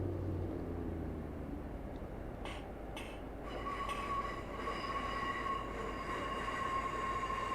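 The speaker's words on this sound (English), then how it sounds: "So bring the train speed up to 40, even though we do have to brake from Manners station." In the Train Sim video game, a train runs from Newcastle toward Manners station with a steady rumbling roll of wheels on track, short clunks midway, then a thin brake squeal that persists as it slows.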